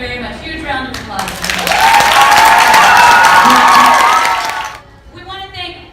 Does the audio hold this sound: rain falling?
no